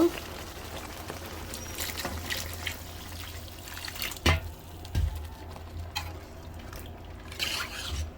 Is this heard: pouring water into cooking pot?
yes